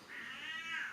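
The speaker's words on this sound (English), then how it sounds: "I'm sorry if you can hear my cat meowing." A house cat shut outside meows once in a single drawn-out, rising and falling cry, faint and somewhat distant.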